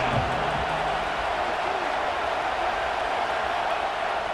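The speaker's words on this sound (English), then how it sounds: "This crowd bringing the energy and noise early." Stadium crowd roar in College Football 26 at Washington, a steady, loud wash of cheering and noise that fills the whole stretch without breaks.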